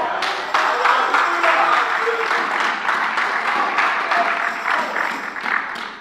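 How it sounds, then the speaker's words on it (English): Church congregation clapping during a Sabbath service, a fairly loud, sustained round of applause from many hands that thins slightly in places, without speech over it. "the claps went down on that one a little bit, didn't it?"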